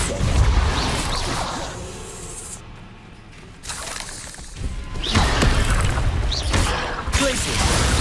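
Depulso force spell cast in the Hogwarts Legacy video game, bursts of whooshing, shattering crashes and booms arriving in a few loud waves over several seconds, with a short lull between them.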